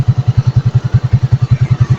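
A motorcycle engine idles nearby, its low, loud exhaust thumping in a fast, even pulse that repeats steadily without pause.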